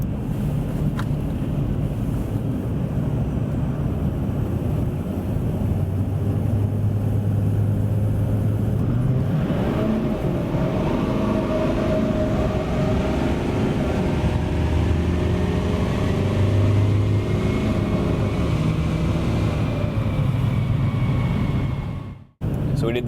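An LML diesel pickup truck, strapped hard to a dyno roller, accelerates flat out in tow-haul mode with a continuous loud roar and rising whine over heavy wind-like rush, ending in an abrupt cutoff.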